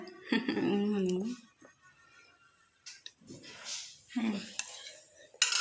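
A spoon clinks and scrapes against dishes in a home kitchen with a few sharp metallic taps and rattles between stretches of nearby talking, faint to moderate.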